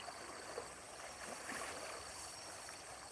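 Strongly flowing water in a small forest stream swollen after rain, a steady faint rushing wash with no breaks, heard alone.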